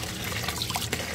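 Basmati rice being washed by hand in water, with soft continuous sloshing and trickling throughout, moderately close and steady, no voices.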